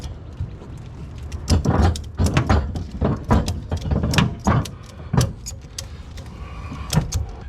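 A ratchet strap being cranked tight to pull a B&W gooseneck turnover ball up into its crossbar on a 2022 Ford F250 Super Duty gives a close series of irregular mechanical clicks and clacks, loud and uneven in spacing.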